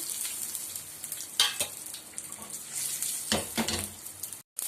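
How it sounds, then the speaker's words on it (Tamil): Asafoetida, dried chilli, mustard seeds and cumin sizzle in hot oil in a pan, a steady frying hiss with sharper crackling bursts and brief stirring scrapes, close and fairly quiet. "இப்போ எண்ணெய் காஞ்சிச்சு பெருங்காயம் காஞ்ச மிளகா கடுகு ஜீரகம் எல்லாம் போட்டுக்கலாம்"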